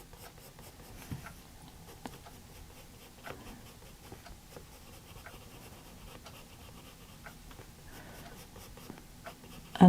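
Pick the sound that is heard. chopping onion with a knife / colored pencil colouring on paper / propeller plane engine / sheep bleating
colored pencil colouring on paper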